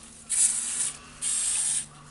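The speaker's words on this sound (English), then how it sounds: "I have the spray for the controller boards and some electronics, so I will spray it on the armature." Electronics cleaner sprayed onto the armature of a cordless drill in two close, steady hissing bursts of about half a second each, separated by a short pause.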